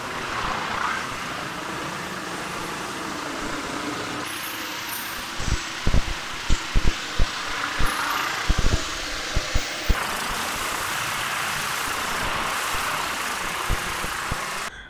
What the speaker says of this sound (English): fire up the boiler and get the turbo lance onto some of these more stubborn stains